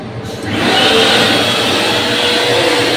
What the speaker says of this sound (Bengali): নেক্সট হচ্ছে হ্যান্ড ড্রায়ার।